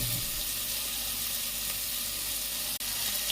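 Tomatoes frying in a pan for sambar give a steady, close sizzle that holds evenly throughout with no talk, broken only by one brief dip near the end.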